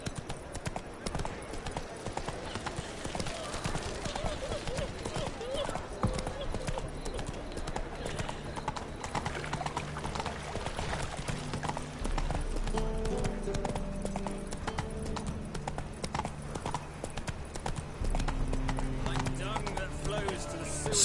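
Roach, the horse in The Witcher 3: Wild Hunt, gallops with rapid, rhythmic hoofbeats under in-game music, while voices talk over the steady clip-clop throughout.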